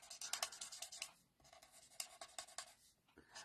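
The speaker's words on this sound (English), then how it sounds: "This one I'm going to color completely dark." A pencil or marker scratches over paper while a fold is colored in completely dark, a series of quick close rasping strokes in short bursts with brief pauses, quiet and without talk.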